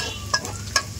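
Curry leaves fry in hot oil with a soft, quiet sizzle, broken by two brief sharp crackles or spatters close by.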